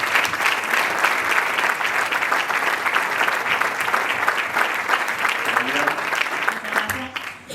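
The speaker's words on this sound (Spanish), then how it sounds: "Pido un fuerte aplauso también para Cristina Sáenz-Metello." A seated audience at a talk on the evolution of women's cycling claps steadily and fairly loudly for several seconds, a dense even wash of applause that fades near the end.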